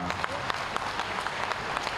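Crowd applause for a revered Maharaj at a public event in Gorakhpur, a steady wash of many hands clapping, fairly distant and continuous throughout.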